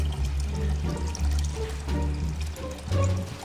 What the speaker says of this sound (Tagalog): Ganyan pala maglagay ng tubig